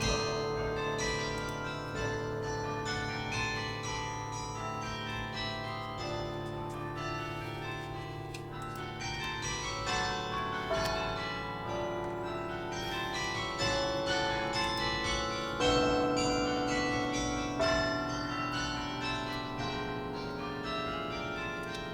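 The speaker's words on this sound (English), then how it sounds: "Tower bells." Tower bells peal continuously in overlapping, richly ringing strokes for the full stretch, steady and fairly loud, with no talking.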